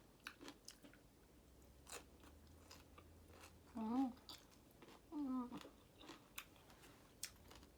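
Someone chews stir-fried bamboo shoots, giving soft crunchy bites and mouth sounds close to the mic at a low level, and a voice makes two short vocal sounds between the chewing.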